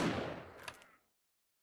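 A single gunshot fired in the zombie survival game 7 Days to Die, a sharp loud blast that decays over about a second, followed by silence and a brief faint sound at the end.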